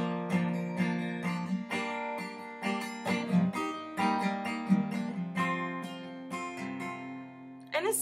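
Chords of a song ring out on a sustained, keyboard-like instrument, struck in a steady rhythmic pattern of clear harmonic attacks over about eight seconds, moderately quiet and heard alone without talking.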